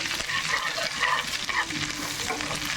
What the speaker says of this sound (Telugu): అల్లం వెల్లుల్లి పేస్ట్ 2 స్పూన్లు వేసుకుందామండి. చక్కగా వేగనిద్దాము.